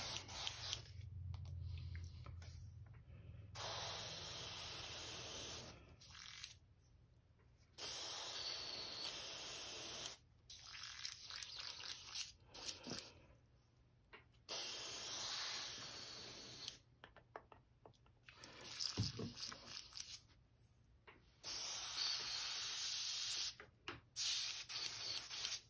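An airbrush spraying blue ink while painting a custom crankbait lure, heard as repeated bursts of loud, close hissing air that start and stop in several-second blasts with short silent gaps between them.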